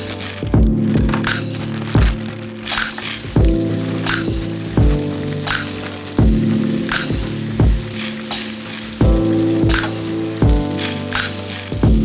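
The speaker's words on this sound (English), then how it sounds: "She's gonna saute a little bit of the broccoli, stir fry. Yes, and we're using olive oil to do all of that." Broccoli stir-frying in olive oil, a steady close sizzle with repeated scraping stirs roughly every second or two, loud and continuous with no talking.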